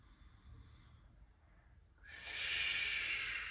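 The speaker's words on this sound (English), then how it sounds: "So you're really working the slow, expanded breath." A slow, expanded breath during a seated chair yoga session, first as a quiet low airflow, then a loud, broad rushing exhale or inhale swelling up after about two seconds and holding steady.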